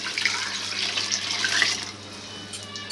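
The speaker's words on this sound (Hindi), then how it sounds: "अब इसमें पानी डालेंगे आधा जग" Steady rush of water pouring continuously into a pressure cooker of dal, bright splashing hiss with a low hum underneath, no talking.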